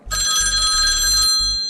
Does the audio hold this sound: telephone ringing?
yes